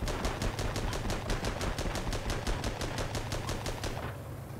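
A tank's gun fires in the video game Armored Battle: a fast, steady automatic burst of about twenty evenly spaced shots over four seconds. The firing is loud and continuous, over a deep rumble, with no voices.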